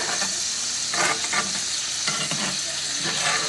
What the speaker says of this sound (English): I got the heat on. Rendering some of this liquid down.